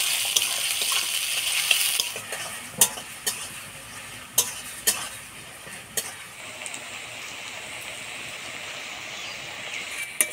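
Chopped onion fries with bay leaf in hot spiced oil for a chicken curry, a steady bright sizzle punctuated by sharp clinks and scrapes of stirring, loudest at the start and settling to a softer hiss.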